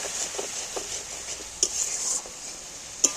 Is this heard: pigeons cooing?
no